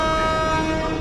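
Kochuveli Humsafar Express train departing the station, a brief, loud and steady tonal horn or whistle over the rumble of the train.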